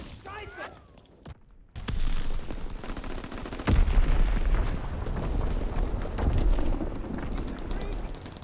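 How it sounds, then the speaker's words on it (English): Enemy mortar fire in the World War II shooter Call of Duty WW2, heavy booming explosions and dense rumbling battle noise rising after a brief silence, loud and sustained, with a game voice announcing over the start. "Enemy mortar fire incoming."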